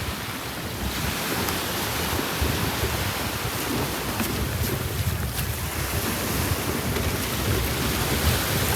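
Rough sea off Boracay beside a slippery pontoon, waves churning and washing in a constant broad roar mixed with heavy wind buffeting the microphone, loud and close, with no voices.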